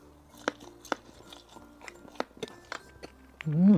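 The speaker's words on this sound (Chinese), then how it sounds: "越嚼越香，丝丝上全是辣椒和芝麻" Someone chews spicy latiao strips coated in chili and sesame, making a series of close, crisp bites and crunches at an irregular pace. A short, satisfied hum comes at the end.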